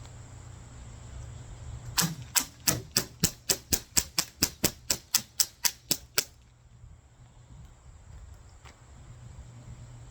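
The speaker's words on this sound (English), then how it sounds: "Every shot went through. It absolutely decimated this plastic." BB gun firing a rapid string of about fifteen sharp, evenly spaced shots into a plastic target, close and loud over a steady background hum, then the hum continues alone.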